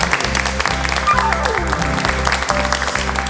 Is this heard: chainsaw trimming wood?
no